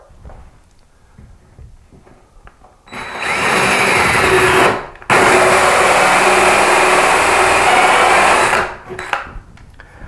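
A drill whines loudly and steadily while boring through a door, stops briefly, then runs again at full speed for several seconds before cutting off.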